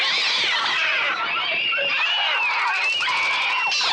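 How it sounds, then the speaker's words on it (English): Shrill, cat-like bird cries from a bird attack scene in Hitchcock's film The Birds, a dense overlapping chorus of screeches and meow-like wails that fills the whole stretch loudly. "As they start to attack, the sounds of the birds are birds, but they're also very cat-like."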